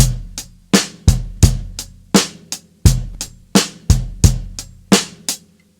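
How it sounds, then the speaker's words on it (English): A drum kit plays a simple beginner rock beat at a drum school, with evenly spaced hard hits alternating deep kick and sharp snare-like strikes in a steady rhythm, close and loud, with no talking. "Rock rhythm number 1 sounds like this."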